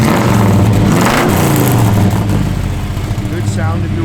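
A 1986 Chevrolet Silverado with dual exhaust gets a short rev, the engine note swelling up and then settling back toward idle, close and loud.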